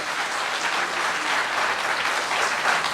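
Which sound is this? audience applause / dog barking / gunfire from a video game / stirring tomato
audience applause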